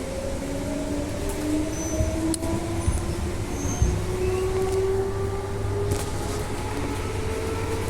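A Perth suburban train pulls away from Burswood station, a steady low rumble with rising motor whine tones and rail noise building through the run, close and continuous with no talk.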